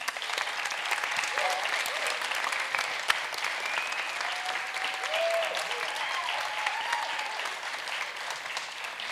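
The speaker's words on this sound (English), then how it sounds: "Can we give another round of applause to these amazing professors here?" Sustained audience applause for professors at a jazz music intensive fills the whole stretch, a dense steady clapping with a few faint whistles and cheers rising above it.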